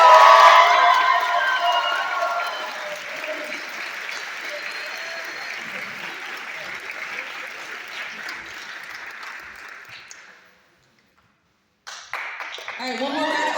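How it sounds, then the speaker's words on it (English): Large audience at a marching band season event applauding and cheering for its leaders, officers and captains, a dense wash of clapping that slowly fades out, breaks off briefly, then starts again. "one more round of applause for all of our leaders, officers, and different captains"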